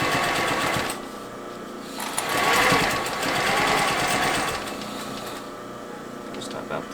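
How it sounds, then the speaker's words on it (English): A close sewing machine stitches down a bag lining in a continuous whirring run. Its speed swells and eases a few times throughout. "with the lining facing up, and then sew down about halfway-ish, making sure that's not off."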